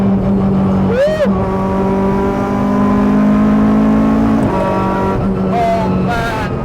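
A K24-powered Honda Civic hatch with a sequential gearbox accelerating hard, loud rising engine tones broken by a few very quick gear changes, with brief excited voices from inside the car.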